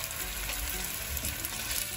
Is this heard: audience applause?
no